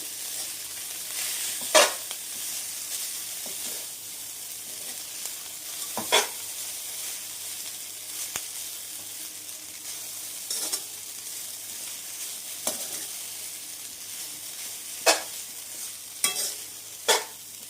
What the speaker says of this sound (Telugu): ఇప్పుడు నూడిల్స్ వేసుకుందాం నూడిల్స్ ఒకసారి కలుపుదాం